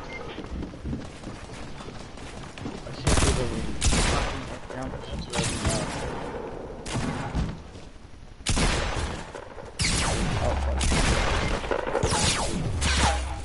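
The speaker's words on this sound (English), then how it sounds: "He's shooting me through a wall!" Bursts of video game gunfire crash out in loud, dense volleys separated by short pauses, with an enemy shooting through a wall, and a player talks between and over the shots.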